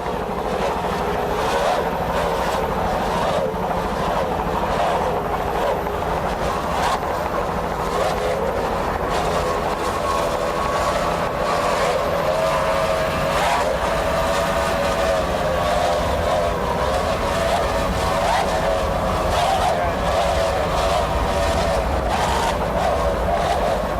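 Offshore racing powerboat engines roar at the 1994 Key West world championships, a dense sustained drone that rises and falls as the throttle is worked, loud and continuous with a rough, rumbling tone.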